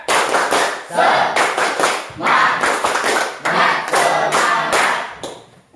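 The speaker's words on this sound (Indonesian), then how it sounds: "Tepuk tunggal. Tepuk semangat." A class of students performs a rhythmic clapping chant, bursts of sharp hand claps in repeated short groups with brief pauses between, loud and close, fading at the end.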